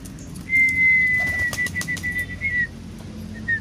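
Pigeons freshly released from a cage take off, their wings flapping in a close, fluttering burst while a thin whistle-like tone carries over the outdoor background.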